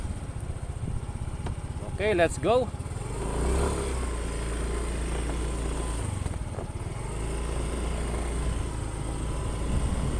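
A Yamaha Mio i125 scooter's 125 cc engine and muffler idling close by with a steady low drone, while someone speaks briefly over it at the start.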